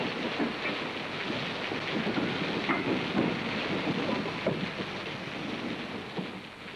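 Heavy rain pours down in a dense, constant hiss, with a low rumble underneath and no voices.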